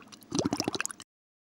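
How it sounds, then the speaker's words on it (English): Water in a home fish tank splashes and gurgles in a quick burst of bubbly drips and plops for about a second, then cuts to silence. "Fish live in their fish tank"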